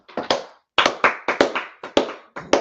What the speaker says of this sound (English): let's clap it up for class again, man